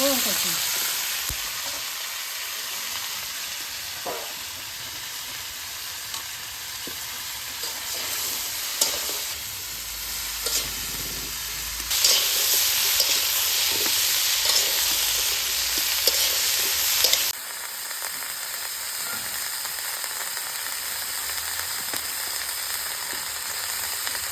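Large rohu fish frying in hot oil with water in it, a loud continuous sizzle with crackling spatters that swells and shifts throughout, no talk.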